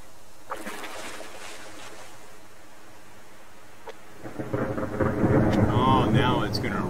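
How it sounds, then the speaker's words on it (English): Rain and thunder in the survival video game Subsistence: a low rumbling thunderclap swells in the second half over a steady hiss of rainfall, fairly loud and close, with no talking. "Rain and thunder."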